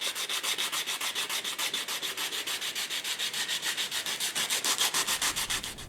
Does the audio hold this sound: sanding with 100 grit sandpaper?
yes